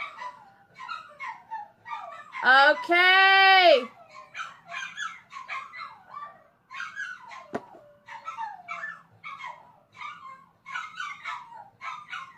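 Several dogs bark and yip in rapid bursts throughout, with a loud howling whine in the middle and a brief spoken exclamation.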